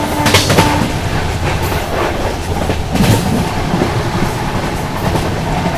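Lucknow AC Superfast Express (12430) running past the Muzaffarpur Garib Rath Express at Garhmukteshwar station: a steady, loud rumble of wheels and carriages with rhythmic clickety-clack over the rails, continuous throughout.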